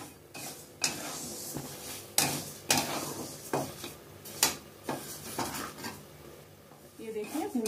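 Moong dal dry-roasts in a kadhai with no oil, a spoon scraping and clinking against the metal pan in irregular strokes, with soft rattling of the lentils and faint background noise.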